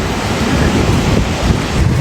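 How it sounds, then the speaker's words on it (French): Sea waves break on the surf side of a breakwater at Playa El Camisón, Las Américas, Tenerife, making a loud, continuous rushing wash with wind noise on the microphone. "juste à côté, eh ben, on a les vagues"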